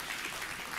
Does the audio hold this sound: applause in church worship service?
yes